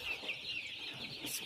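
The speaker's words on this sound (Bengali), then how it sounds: "আমার এই মুরগি বাচ্চাগুলো দেখছেন, এগুলোর নাম হচ্ছে কালার বার্ড" Eight-day-old colour bird chicks in a poultry shed of about 1500 birds, a continuous chorus of high peeping and chirping close by.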